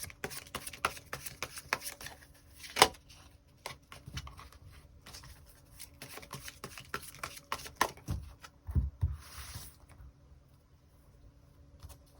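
Tarot cards are drawn and shuffled by hand, giving a run of crisp papery snaps and soft slides at close range with an irregular rhythm and no voice over them.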